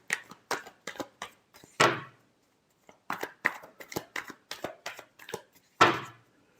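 Tarot cards being shuffled in a run of crisp riffling bursts, each ending in a louder flutter, first a volley of short strokes, a pause, then another volley and a final loud riffle, close and with no voices.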